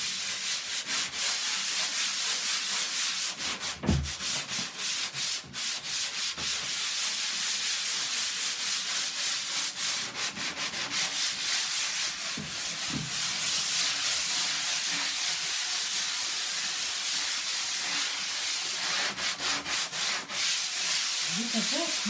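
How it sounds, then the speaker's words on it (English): Wood sanded by hand, a loud, continuous scratchy rubbing with uneven back-and-forth strokes and a few knocks, no voices. "Good old-fashioned sanding."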